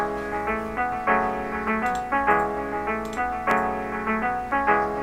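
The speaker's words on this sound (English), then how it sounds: "So then here's my backing track." A beat-making backing track plays at steady volume, with tonal chords pulsing in a regular rhythm, punctuated by light percussive ticks and hits, and nobody talking over it.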